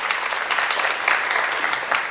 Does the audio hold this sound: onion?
no